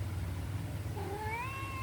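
A pet cat lets out a single rising meow, close and clear, over a steady low background hum.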